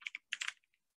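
A computer keyboard being typed on to enter a password in a password-management lab: a quick burst of five or six crisp, close key clicks within a second, then silence.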